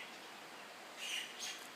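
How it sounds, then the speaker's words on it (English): Birds in a jungle backyard give a couple of faint high chirps over a steady hiss of background noise, heard from a distance. "You can hear birds chirping in the air."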